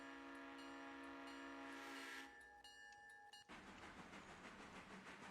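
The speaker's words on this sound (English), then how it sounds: "Well, that's one hell of a Doppler effect." A train passes in the railway game Railroader, its horn and engine tones sliding sharply down in pitch with a strong Doppler shift before giving way to a broad rumbling roar of the cars going by.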